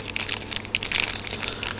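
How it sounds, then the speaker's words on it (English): A plastic bag holding small parts is handled close by, crinkling and crackling in quick, irregular bursts with no talk. "It's in a plastic bag so I don't lose the parts."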